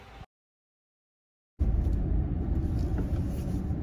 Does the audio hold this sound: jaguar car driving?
yes